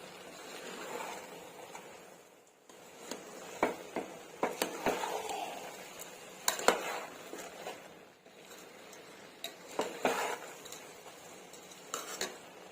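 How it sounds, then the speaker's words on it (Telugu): A spoon gently stirs rice for meal maker tomato biryani in a metal pot, giving soft, scattered scrapes and clinks at close range with brief pauses between strokes. "ఒకసారి చిన్నగా కలుపుకుందామండి, రైస్ విరిగిపోకుండా చిన్నగా కలుపుకుంటే సరిపోతుంది."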